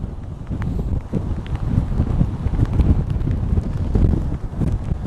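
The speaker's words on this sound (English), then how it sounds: "these are wind-driven waves due to storm action" Wind gusting over the microphone as storm-driven waves churn ahead of an incoming storm front, a loud, continuous low rumble with buffeting surges.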